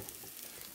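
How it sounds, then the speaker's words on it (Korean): Onion and potato pancakes with frying batter mix fry in a pan, a steady dense sizzle heard up close for under a second with no speech. "아주 맛있게 지금 구워지고 있네."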